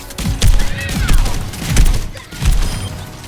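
Venture's weapon in the Overwatch 2 practice range fires in a string of heavy, booming thumps, four or five loud blasts roughly half a second apart with rumbling tails and faint whooshing sweeps between them.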